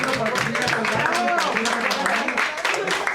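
Church congregation applauding together, steady clapping blended with voices, moderately loud and close throughout.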